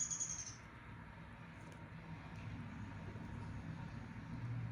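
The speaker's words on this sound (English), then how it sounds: "that bird sounded like he was trying to come in my house." A bird calls outside a house with a short, high chirp right at the start, then falls silent over a low, steady background rumble.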